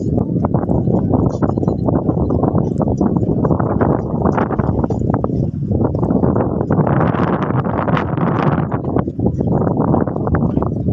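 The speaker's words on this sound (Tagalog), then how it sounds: "So ayan, medyo mahangin talaga." Strong wind at the Bucana Bridge coastal road bridge project over the Davao River buffets the microphone with a constant rumbling roar that swells and eases, loud and close throughout.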